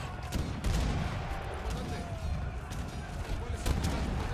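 A strategy video game battle sounds out with dense bursts of gunfire and thudding mortar fire, a steady rattle of shots under a caster's fast commentary.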